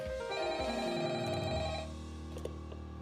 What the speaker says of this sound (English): The ringtone though.